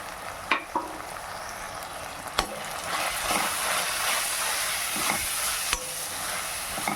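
Tomatoes with garam masala, turmeric, coriander and chili powders sizzle and hiss steadily in a hot pan for Tamil veg salna, with a few sharp spoon scrapes and clinks against the metal as the mixture is stirred.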